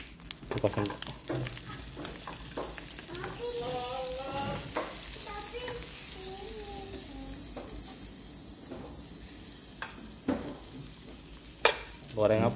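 Sausages frying in a pan, giving a steady sizzle with stirring scrapes and clinks, while children's voices chatter over it at close range.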